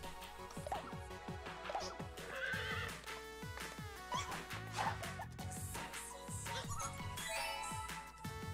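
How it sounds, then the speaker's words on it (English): Horse neighing in the video game Miitopia, a loud whinny followed by clip-clop hoofbeats and repeated neighs against looping game music, with no talk. "Horse."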